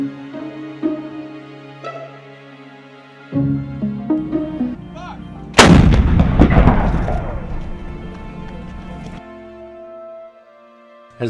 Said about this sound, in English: our howitzers make a lot of noise when they fire